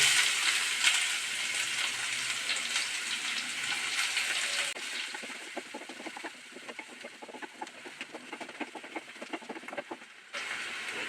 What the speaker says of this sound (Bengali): যে ফোড়নটা করে রেখেছিলাম সেটা দিয়ে দেব এখন আমি কুচনো পেঁয়াজগুলো দিয়ে দেবো